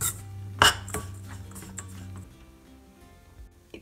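Flour roasts in a pan on a low flame for a simple prasadam, with a loud metal spoon clank against the pan, a few lighter scrapes and a low hum fading after two seconds.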